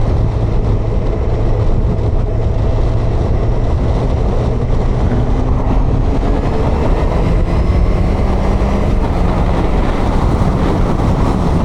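A Honda CBF1000 1000cc motorcycle drones loudly and continuously while accelerating in 6th gear to overtake, with steady engine hum mixed into heavy wind rush throughout.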